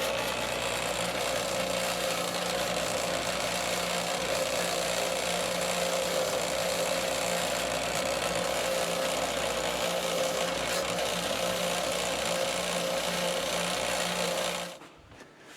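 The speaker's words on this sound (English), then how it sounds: "I'm going to wire wheel the Loctite out of this as well, so we hopefully don't fight the nut on so much" A wire wheel on a power tool cleans Loctite off the threads of a TD25G bulldozer tilt cylinder rod, giving a loud, steady whirring grind with a constant tone that runs unbroken for about fifteen seconds, then stops abruptly.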